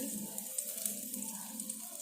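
Dried chilies and cardamom frying in oil for aloo borar dum, a faint, steady crackling sizzle with light pops, quiet and free of talk.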